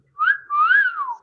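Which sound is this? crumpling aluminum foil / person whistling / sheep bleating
person whistling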